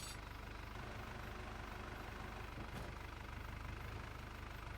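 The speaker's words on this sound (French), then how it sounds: "C'est la première fois que je me sers de ce tracteur." A tractor engine idles in Farming Simulator 25 with a low, steady, faint rumble that holds unbroken throughout, no voices over it.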